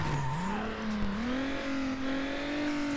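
A racing car engine in Need for Speed Underground revs and shifts while cornering. The close, loud whine climbs in pitch, dips briefly, then rises again and holds high, with a hint of tire squeal.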